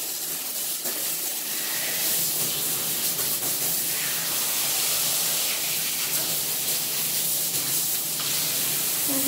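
A pet hedgehog is rinsed during its bath, with a steady, continuous hiss of running water spraying throughout, fairly close and unbroken.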